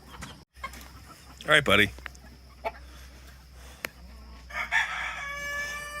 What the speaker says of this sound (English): I wonder if I could grab that Silky Rooster.